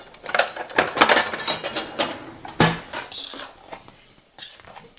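Flour and baking powder being folded into cake batter with a wooden spoon, heard as close, irregular scrapes and soft knocks against the bowl, with one sharper clack partway through and no talking.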